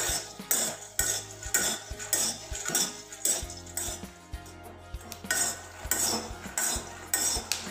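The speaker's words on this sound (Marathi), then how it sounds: "एक 7-8 मिनटं झालेले आहेत मी इथे शेंगदाणे भाजत आहे।" Peanuts being dry-roasted in a pan over a medium flame for peanut ladoo, stirred with a utensil that scrapes and clatters against the metal in quick repeated strokes, close and fairly loud, with no talking.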